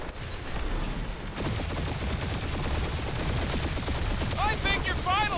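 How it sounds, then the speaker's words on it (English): Enemies fire on the ship in Guardians of the Galaxy. A rapid, dense rattle of gunfire runs continuously under the engine roar and explosions, with whining electronic tones rising near the end. "We're taking fire."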